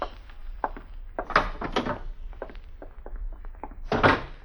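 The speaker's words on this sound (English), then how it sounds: "John! John, open the door! I'm heavy with melons and cannot reach" Door opening as a radio drama sound effect, a few knocks and thumps of a wooden door at close range, the loudest bursts near the start and end of the clip.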